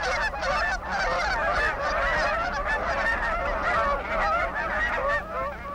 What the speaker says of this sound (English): snow geese and Canada geese